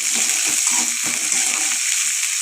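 Curry leaves, onion and chilli sizzling steadily in hot oil in a pan, a continuous loud hiss with faint crackle and no talking.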